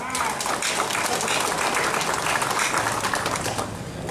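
A crowd claps steadily in sustained applause, a dense patter of many hands filling the room, with some voices mixed in.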